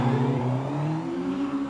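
A twin-engine Tiger Z100 car revs steadily up close, its buzzy mid-pitched engine note rising slightly over a couple of seconds with a constant rough vibration and no talk.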